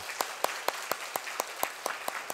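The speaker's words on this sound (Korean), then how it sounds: "감사의 박수를 더 크게 치시길 바랍니다" Rhythmic group clapping in a church service, a steady beat of crisp claps roughly every quarter second over a soft murmur of the congregation, moderately distant.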